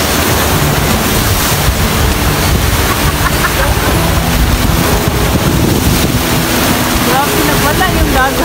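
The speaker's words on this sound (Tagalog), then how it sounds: "Grabe, nagwala yung dagat ko eh." Rough sea waves surge and break continuously at a beach resort in Maribago, Lapu-Lapu, with loud wind buffeting the microphone throughout and faint voices mixed into the steady roar.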